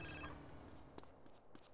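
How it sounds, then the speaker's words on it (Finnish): A telephone rings in the video game GTA San Andreas, a short electronic ring at the start that fades into low background game noise. "Kyllä puhelin soi koko ajan"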